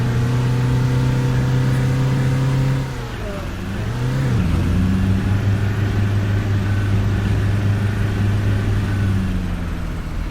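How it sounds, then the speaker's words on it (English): Bus engine in Fernbus Simulator with a loud, steady droning roar that dips briefly and swells back up, like a hard rev under steady load. "But the engine makes it sound like I am flooring"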